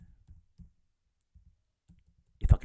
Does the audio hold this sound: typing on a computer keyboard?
yes